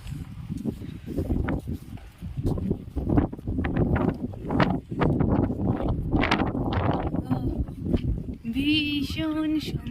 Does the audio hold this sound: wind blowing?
yes